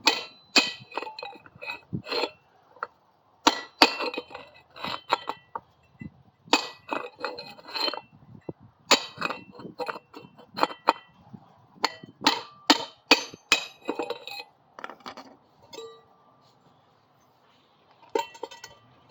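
A hammer strikes a steel bearing race to drive it out of an axle bore on a Coleman BT200X minibike. Sharp metallic clinks and whacks come in irregular clusters, close by, with short quiet gaps between them.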